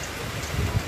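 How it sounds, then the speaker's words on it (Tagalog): Heavy rain pours steadily and close, a dense continuous wash of drops on surfaces with low rumbling swells; no voices. "Lakas na naman ng ulan, no?"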